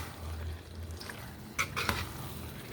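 Fenugreek being stirred into mixed vegetables in a pan: soft sizzling under a low hum, then a couple of brief scraping clinks of the spoon against the pan near the end; no talk.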